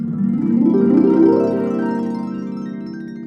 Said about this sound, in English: A dedicated instrument just for Glissando.